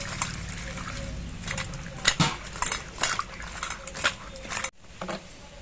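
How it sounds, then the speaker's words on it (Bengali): Cut taro pieces rinsed in water in a metal vessel, with clattering knocks, splashes and scraping of utensils in uneven bursts, close by, ending abruptly in near quiet. "কচুগুলোকে জল দিয়ে ধুয়ে পরিষ্কার করে নিচ্ছি।"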